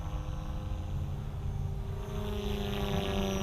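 Align Trex 470LP RC helicopter converted to LM configuration, flying at low head speed around 80% throttle on its maiden flight, gives a steady droning rotor and motor whine with tonal harmonics that rise slightly toward the end, close and continuous.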